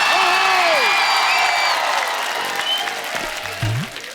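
A studio audience claps and cheers to welcome Salman Khan at a television show taping, a loud wash of applause with whoops and shouts, thinning toward the end as a few voices carry over it.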